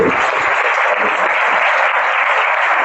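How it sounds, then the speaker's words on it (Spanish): A church congregation breaks into sustained applause during a worship service, a loud, dense, continuous wash of many hands clapping together with no pauses. "Denle un aplauso al Rey bendito."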